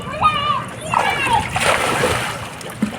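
Water splashes from someone swimming, with a few loud nearby splashes and sloshing mixed with children's voices and excited chatter.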